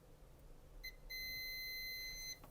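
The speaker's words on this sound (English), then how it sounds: "Here it's beeping in diode mode." A steady electronic beep from a multimeter in diode mode sounds for over a second, preceded by a short chirp, with a faint hum underneath, while testing an Apple Mac Mini that won't power on.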